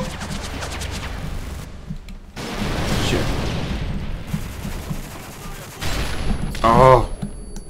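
G3 rifle fire from Call of Duty Modern Warfare 3 crackles in rapid bursts amid other in-game gunfire and explosions, with a voice talking over parts of the action.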